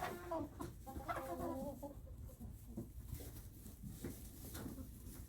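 Hens cluck and a rooster calls in a busy coop, with repeated squawks and clucks overlapping close by against steady barnyard background noise.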